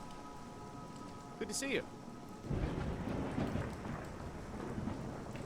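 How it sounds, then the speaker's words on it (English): Rain and a rolling thunderclap in Skyrim Special Edition with a weather mod: soft steady rainfall, a brief higher crackle, then a deep low rumble building and lingering, with a brief spoken line from a game character. "having the rain and the thunderclap and the lightning to really just set you into the mood"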